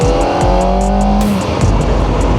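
A Kawasaki Ninja ZX-4RR 400 cc sport motorcycle pulls after a gear shift in rider mode, its engine note loud and close, droning with rising tones against steady wind roar.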